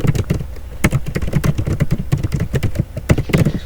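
Rapid typing on a computer keyboard, a dense run of crisp close key clicks with uneven rhythm and a few heavier taps, heard alone without talk.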